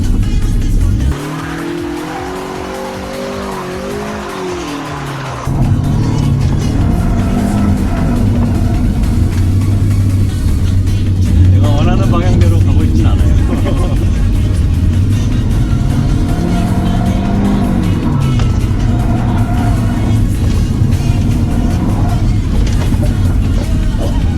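A Mazda Miata drifting, its engine droning loud and steady while tires squeal and skid in long sweeping slides, with laughter and talk from inside the car.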